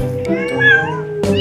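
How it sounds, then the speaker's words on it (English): A domestic cat gives a short, clear meow, close by, with a brief higher cry at the end. "Cat."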